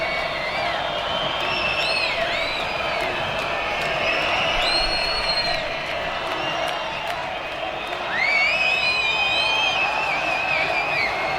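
A concert crowd at a 1977 Munich show, a large live audience roaring and cheering loudly and steadily with whistles and whoops rising over the din, heard at a distance as a wash of sound.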